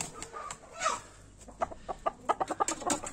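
Chickens cluck close by in a short burst of quick, irregular calls that grow busier toward the end, with no talk over them.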